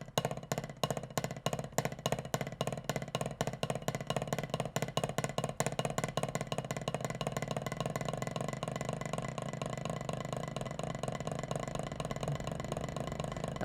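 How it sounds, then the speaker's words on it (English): A drum buzz roll played with sticks, starting as a rapid run of sharp, dense strokes that blur into a continuous buzzing roll, close and steady with no talking. "they give you a nice feel for the buzz roll"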